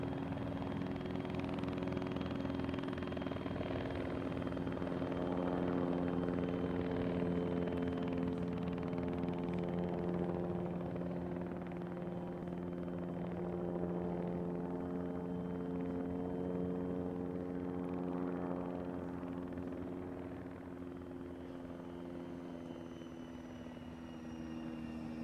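Helicopter in the video game ARMA, a continuous steady rotor and engine drone with layered humming tones, holding level throughout with no talk over it.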